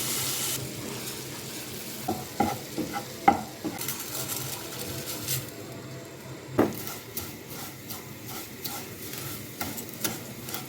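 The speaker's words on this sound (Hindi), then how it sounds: "पैन में 2 टेबल स्पून मक्खन डाल रहे हैं और सेवइयों को रोस्ट करेंगे" Vermicelli roasting in butter in a pan, stirred with a utensil that scrapes and clicks against the metal over a steady soft sizzle, with occasional louder knocks of the spoon on the pan.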